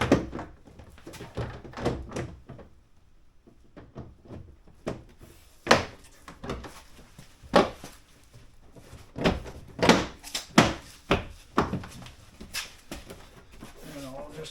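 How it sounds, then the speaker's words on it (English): Plastic trim panel on a 2019-2023 Acura RDX door being pressed back into place, a series of close, sharp clicks and thunks in an uneven rhythm, with someone talking over them. "And it all just clips back in."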